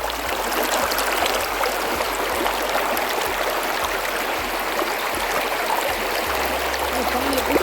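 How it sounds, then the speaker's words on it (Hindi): Mountain stream water rushing steadily over rocks, a dense, continuous hiss and gurgle close by that holds at an even loudness throughout with no voices over it. "और ये देखें पानी की जो आवाज़ है वो सुनवाता हूँ आपको।"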